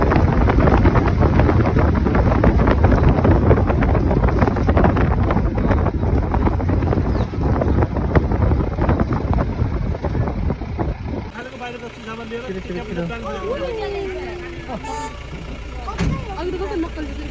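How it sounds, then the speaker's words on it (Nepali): A boat ride on water is heard as a loud, steady engine drone and rushing wind buffeting the microphone, which then gives way to a calmer stretch where voices talk. "म चाहिँ अब डुङ्गा राइडमा आएको छु"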